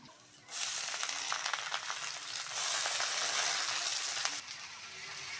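Greens hitting hot oil in a pan with onion and green chilli for a Bengali shak bhaji, a steady loud sizzle that flares up and holds, with no talking.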